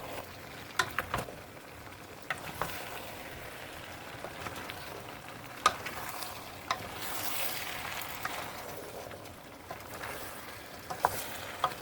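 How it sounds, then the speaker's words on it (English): Okra stew stirred in a pot, with a soft continuous sizzle and wet bubbling punctuated by occasional light scrapes and clicks of the spoon, close and fairly quiet. "you want to make sure you're stirring till it's all mixed together"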